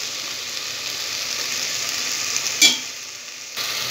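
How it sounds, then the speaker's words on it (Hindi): Potatoes and spinach with turmeric fry in a pan with a steady, soft sizzle, broken by one brief sharp clatter near the end. "अब हम इसको अच्छे से एक से दो मिनट भून लेंगे।"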